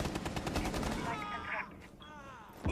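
A grenade goes off in Rainbow Six Siege during a pro league match, a sharp burst among crackling gunfire, followed by a broadcast voice talking over the noise.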